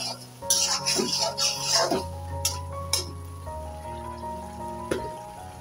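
Spice paste of turmeric, chili and coriander fried in a covered pan with fish, heard as a soft sizzle with clinks of utensils and stirring, fairly quiet.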